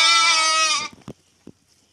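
A lamb or sheep in a barn gives one long, loud, quavering bleat close by, followed by a few faint knocks and rustles.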